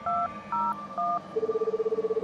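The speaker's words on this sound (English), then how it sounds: "Pick up the phone again and call a number." A telephone number is dialed in the video game Return to Shironagasu Island. Three clear touch-tone beeps play close and loud, then a steady pulsing ringback tone follows.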